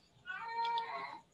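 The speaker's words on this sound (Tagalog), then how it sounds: "mayroong umiiyak na pusa" A cat meows once in a drawn-out, wavering cry, fairly quiet and close, with no one speaking over it.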